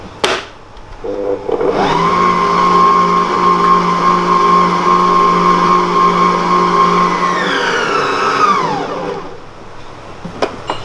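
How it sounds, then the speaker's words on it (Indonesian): An electric mixer whirs at low speed through roll cake batter containing milk powder and cornstarch, a loud steady motor hum that starts abruptly, holds for several seconds, then winds down to silence. "Lalu kita kocok lagi menggunakan kecepatan yang rendah saja, sekedar mengaduk."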